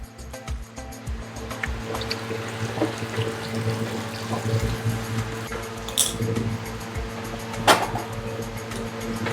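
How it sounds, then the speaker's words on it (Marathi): Water poured into a cooking pot to boil drumstick pods in a home kitchen, a steady splashing pour running for several seconds under a low rhythmic hum, with a couple of brief clinks. "आता शेंगा उकडायला ठेवू पाणी ओतून."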